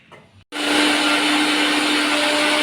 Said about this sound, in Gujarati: આપણી કોફી ગ્રાઇન્ડ થઈ ગઈ છે.